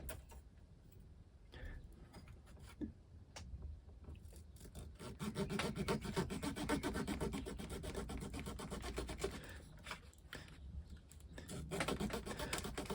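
Small Artesania Latina hobby micro saw cutting a wooden ship model part, heard close up as a quiet, steady rasping back-and-forth stroke that continues for several seconds with brief pauses.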